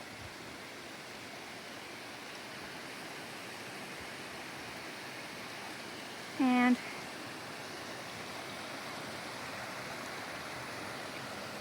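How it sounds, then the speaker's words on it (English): Steady broadband rush of a waterfall on the North Umpqua Trail, continuous and fairly distant, with a brief short voice cutting in midway. "Waterfall."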